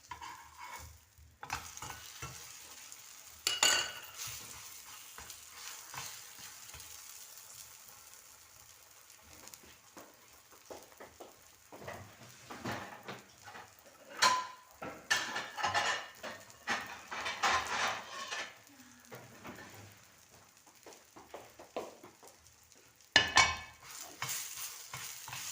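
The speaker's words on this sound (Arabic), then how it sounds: "نروح نقلب المحاجب تاعي" Semolina mahjouba flatbreads frying in oil in a pan, with a soft steady sizzle under intermittent clatters and scrapes as the breads are flipped and the pan is handled, close and moderately quiet, with no talk.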